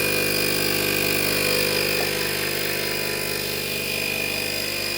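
A portable tire inflator compressor from an emergency tire repair kit runs at a steady, loud, close buzz with a constant motor whine and no change in pitch, and no one speaks over it.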